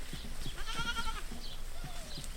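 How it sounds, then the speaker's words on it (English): Herd of goats in the Wenatchee foothills, with a clear drawn-out bleat over a steady outdoor background and softer bleats from other animals nearby and farther off. "Herds of goats took over the Wenatchee foothills today"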